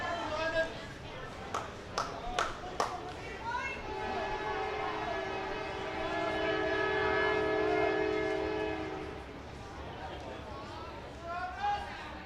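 A train passes near a baseball field, its horn sounding a long, steady sustained blast in the middle, with a commentator talking before and after and scattered sharp knocks early on.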